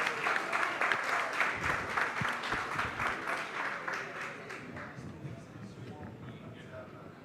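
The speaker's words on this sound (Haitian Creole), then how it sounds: "sous vos applaudissements s'il vous plaît" An audience applauds at a public event, a dense burst of clapping that starts strong and gradually thins and fades over several seconds.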